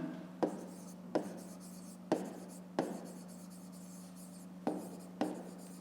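A pen writes by hand in a fifth-grade maths exercise, scratching steadily on paper with sharp periodic taps as strokes begin, under a constant low electrical hum and no voices.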